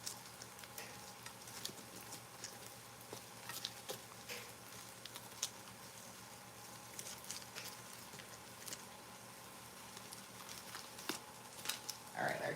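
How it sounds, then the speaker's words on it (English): Cheese dip bubbles quietly while it cooks, with faint sizzling and irregular small pops and ticks continuing steadily throughout. "our cheese is bubbling"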